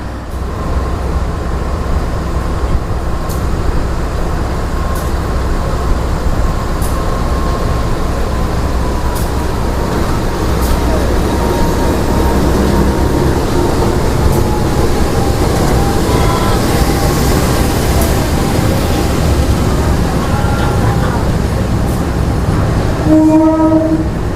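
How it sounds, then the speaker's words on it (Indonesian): The Sribilah passenger train rumbles steadily close by with rolling wheel noise in Tebing Tinggi, North Sumatra, while a fuel tanker train passes and sounds its horn near the end. "kita dapat momen silangan antara kereta api Sribilah dengan kereta KTL BBM"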